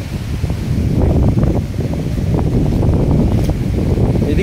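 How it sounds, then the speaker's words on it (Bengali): Strong wind blows around a rural home after a storm has broken branches, a loud, close rumbling gust buffeting the microphone with rustling throughout. "এখনও তো কি বাতাস চলতেছে"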